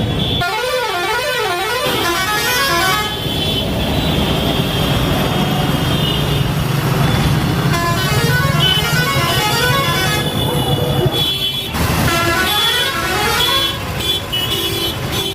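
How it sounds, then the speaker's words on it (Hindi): Vehicle horns honking on a busy main road in Masaurhi, warbling and blaring horns sounding one after another over a constant roar of bus and car traffic, loud and close. "मसौड़ी की मेन रोड में जो वाहन चलते हैं उनके हॉर्न बजते हैं"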